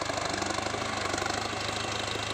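A Ford 6610 tractor engine runs steadily nearby, a constant low mechanical rumble with a rapid knocking pulse, no voices.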